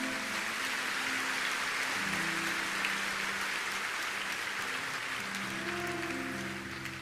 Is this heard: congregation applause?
yes